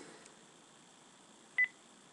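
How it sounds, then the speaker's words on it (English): Telephone keypad dialing tones, a few brief faint electronic beeps in a quiet room, with one clearer short double tone near the end. "I'm gonna call Miley."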